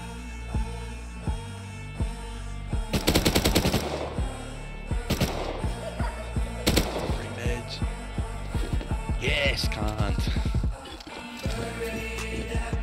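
Gunfire in the Rust survival game near a watchtower on a hill: a dense burst of rapid automatic shots around three to four seconds, followed by scattered single and clustered shots through the rest of the clip, mixed with other game sounds.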